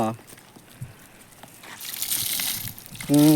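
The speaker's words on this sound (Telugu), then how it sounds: "నా చేప నీట్గా కడుక్కొని ఎత్తుకుని వెళ్తా" Water sloshes as a fish is washed by hand in a small muddy pond, with soft splashing and trickling that builds toward the end, briefly covered by a voice.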